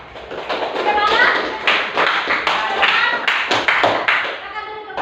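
Students in a classroom clap for a group, a close burst of brisk hand claps that rises, thins into scattered taps and picks up again, with children's voices chattering under it.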